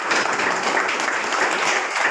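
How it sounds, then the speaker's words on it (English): A keynote audience applauds steadily, a dense wash of many hands clapping throughout. "Let's give him a hand of applause first."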